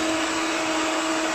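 Electric hand beater whipping butter for a cake batter, a steady high motor whine with a continuous buzzing hum, close and loud, with no talking.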